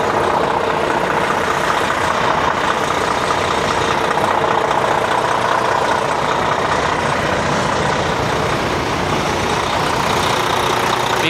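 A truck engine idling, a steady, dense low rumble that runs unchanged and close for the whole stretch, with no talk.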